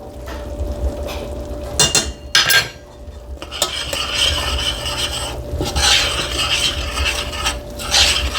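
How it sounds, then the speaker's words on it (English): A spoon scrapes and stirs flour into tender onion and carrot in a pan for chicken pot pie, with close, rasping strokes and clinks of metal repeating across the whole stretch and no voices. "Now we're going to stir that in."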